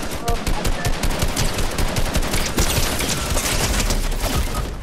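Rapid automatic gunfire in the Fortnite video game, sustained and loud throughout with dense repeated shots.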